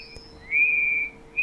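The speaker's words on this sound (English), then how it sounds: "you may hear whistling sounds as you put it into the ear" A hearing aid being pushed into the ear gives off a thin, steady feedback whistle that swells louder for about half a second and then fades, with a short chirp returning at the end.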